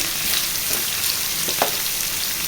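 Gongura curry cooks in a pan over a medium gas flame, a steady close sizzle and bubbling with a few soft stirring scrapes, continuous and moderately loud with no voices.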